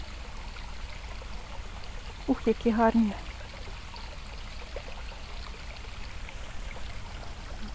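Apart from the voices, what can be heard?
small waterfall and flowing water in a botanical garden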